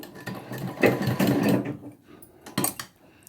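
A sewing machine stitches invisible piping onto a curved neckline, running in short close bursts that stop and restart as the fabric is turned, with a quieter run near the end.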